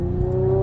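An Audi S5 engine runs with a steady, loud, close mechanical hum and a sustained tonal drone, with no voices over it.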